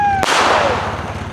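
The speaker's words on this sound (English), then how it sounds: "Brandon, did I give you a firework? That better go up in the motherfucking air." A single firework goes off with a sharp close bang at an early-season fireworks outing, followed by a decaying crackling burst and noisy tail.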